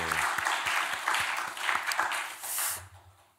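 A church congregation applauds in a sanctuary, a short wave of clapping that swells and then fades out, with a voice briefly audible under it toward the end.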